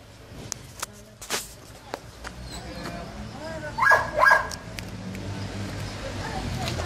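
A Cane Corso dog gives a few short barks and yips, with a louder pair in the middle, heard in the open alongside footsteps and other scattered noises.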